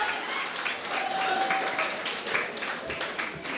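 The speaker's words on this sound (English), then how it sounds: "Let's be generous in the noise of the claps." Audience applause for participants in a desserts preparation competition at a hotel management institute, a steady dense wash of clapping lasting throughout, with a voice speaking over it.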